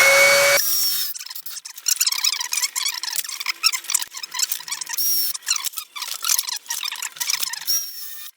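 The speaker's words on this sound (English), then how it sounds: "we're going to drill a hole on either side of the thing so that it's sort of balanced" A power drill bores a hole through a piece of medieval armor, a steady high whine broken by rough grinding bursts and squeals as the bit bites into the metal, loud and close throughout.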